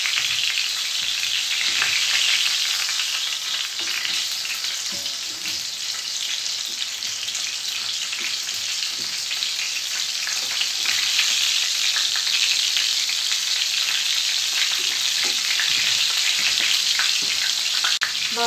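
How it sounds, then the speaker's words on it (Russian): Meat-filled chebureki frying in a pan, a loud, steady bubbling sizzle of hot oil with constant crackle and no talking. "чебурек у меня вот этот пожарился"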